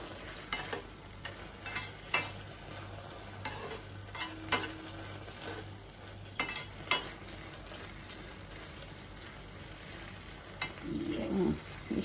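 Hibiscus petals with cumin seeds and pepper fry quietly in a pan, a soft steady sizzle broken by occasional ticks and scrapes of stirring, with no talking.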